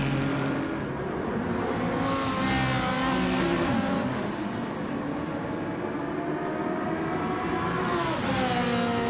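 Race cars, including a Lamborghini 458, scream around the Interlagos circuit in Gran Turismo 7, with loud continuous engine whine that shifts in pitch as revs climb and drop.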